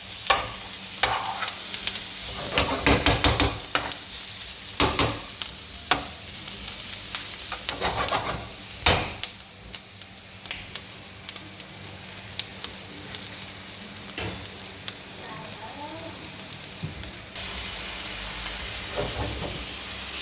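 Curry powder fries and is stirred in a pot for Jamaican curry shrimp, a steady close sizzle with repeated scraping stirs and utensil knocks running throughout, no voices.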